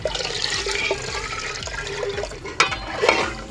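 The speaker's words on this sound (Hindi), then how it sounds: "पानी शामिल करेंगे।" Water splashes and trickles steadily into a bowl of pakora batter, a continuous wet pouring noise with a couple of louder sloshes near the end, close by.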